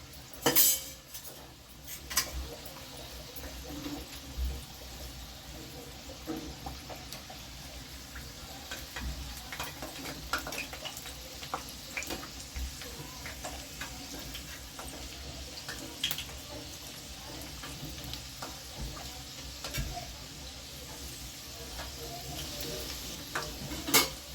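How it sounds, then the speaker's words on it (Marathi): Matar kachori frying and being turned in hot oil in a pan, a continuous close sizzle with scattered scraping and clinking of a utensil against the pan, with no talk. "अलगद एक साईडनं असं परतून घ्यायचं"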